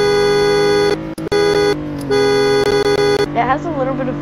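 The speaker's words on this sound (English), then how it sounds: "Now this is a horn I've never heard before." A car horn in the Roblox game Greenville blares in long, loud, steady tones broken by brief gaps and a couple of quick taps, then cuts off into a lower, quieter wavering sound.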